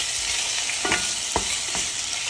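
Squid with garlic and shallot being stir-fried in a hot pan: a steady bright sizzle with a few short scraping stirs of the utensil, close and continuous, no talking.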